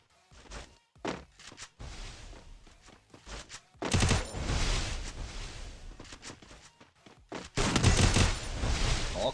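Bursts of rapid gunfire from a Free Fire battle, short volleys early on giving way to long, loud sustained automatic fire with dense thuds, heard alone without talk.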